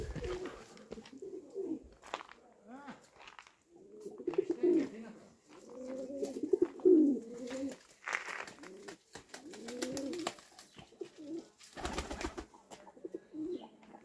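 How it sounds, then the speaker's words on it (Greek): Pigeons cooing at Nea Moni monastery on Chios, repeated soft throaty coos in loose bursts, fairly close, with faint other sounds between. "Περιστέρια, περιστερών."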